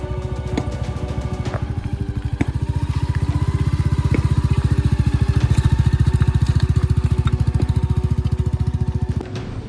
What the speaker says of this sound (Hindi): सही सलामत हमारी बाइक को भी ले आए हैं हम नीचे